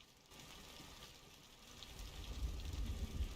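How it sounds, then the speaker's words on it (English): Rain ambience layered into a game in development, a steady soft hiss of falling rain that swells gradually louder with a low rumbling patter toward the end, no talking. "It's raining, guys."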